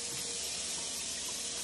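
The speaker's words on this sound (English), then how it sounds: "the first step is to wash your hands" Hands being washed under a running kitchen sink tap: a steady, close hiss of flowing water continues evenly throughout, with no talking.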